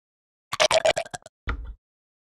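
Designed monster gargle with chopper-made throat clicking, a wet, stuttering burst of rapid pulses followed by a brief pause and a lower, rougher gurgle, close and alone.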